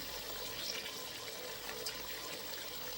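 Raisins being washed for plov: a steady, quiet stream of running and splashing water continues unbroken throughout, with no voices.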